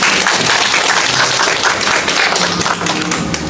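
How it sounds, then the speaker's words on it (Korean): An audience at a Shiseido Professional hair cut and color seminar applauds, a dense, continuous wash of many hands clapping at once, loud and sustained throughout. "큰 박수 부탁드립니다."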